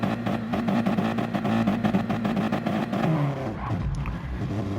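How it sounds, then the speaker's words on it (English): A race car engine revs steadily at high pitch at the start of a race at Willow Springs in a racing video game, loud and close, holding a sustained buzzing drone before easing slightly near the end, with game-like sound mixing. "Revs are rising, waiting for the lights."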